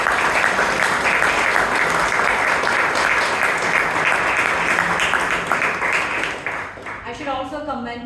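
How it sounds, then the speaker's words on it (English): A Toastmasters club audience in Bangalore applauds loudly and steadily for several seconds before the clapping eases and a voice begins speaking at the end. "A great round of applause"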